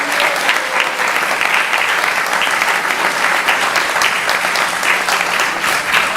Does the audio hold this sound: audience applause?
yes